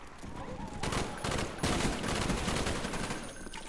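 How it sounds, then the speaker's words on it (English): Automatic weapon fire in the Black Ops shooter on the Hanoi map: dense, rapid bursts of shots rattle almost continuously for several seconds, loud and close, over a busy background of other battle noise. "I thought that was an automatic weapon."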